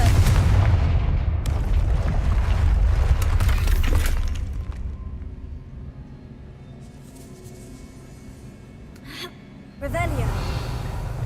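Fire-spell explosions from Hogwarts Legacy: loud, dense booming blasts for the first few seconds, then a quieter lull with faint crackles and magical shimmer, before another heavy burst near the end.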